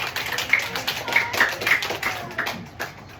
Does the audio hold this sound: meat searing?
no